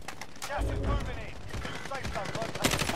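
Gunfire in Warzone, with scattered sharp shots and short rapid bursts at moderate distance while voices talk over the action.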